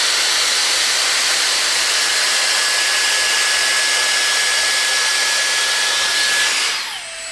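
A Dyson Airstrait hair dryer runs on its highest heat and highest airflow settings, giving a steady, loud, close rushing whoosh of air that holds constant and then eases down near the end.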